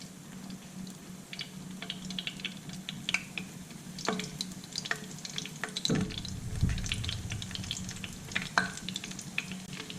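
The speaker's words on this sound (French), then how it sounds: "y déposer vos beignets, votre brie pané, et le laisser frire" Breaded brie and fritters fry in hot oil, bubbling and crackling steadily up close, with scattered sharper pops and a few clinks and scrapes partway through, and no talking.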